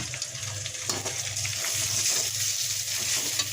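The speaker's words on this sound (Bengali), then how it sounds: "লবণ দিয়ে দেবো সাত মতো এটাকে ভালোভাবে কষিয়ে নেব" A steady, close hiss rises from masala with salt being sautéed in a pan, an even sizzling wash with light scraping bursts and no break.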